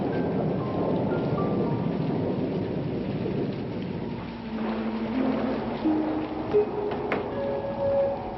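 A thunderstorm with steady heavy rain hisses throughout, while low thunder rumbles roll underneath and swell in the second half.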